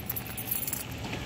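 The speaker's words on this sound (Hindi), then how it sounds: "एक मिनट ज़रा मैं चाबी निकाल लूँ" A bunch of keys jangling faintly as a key is pulled out, a short metallic clinking rattle close by, quiet and without speech.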